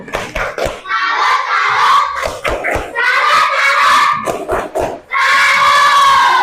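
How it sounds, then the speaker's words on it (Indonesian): Schoolchildren in an Indonesian classroom perform a rhythmic clap-and-chant routine, sharp bursts of unison clapping alternating with loud group chanting, close and lively. "Tepuk salut"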